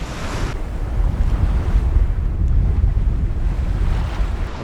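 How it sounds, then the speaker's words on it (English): Wind and waves surround a small sailboat out on a test sail, a loud rushing gust buffeting the microphone over the steady wash of water against the hull. "the wind is coming this way"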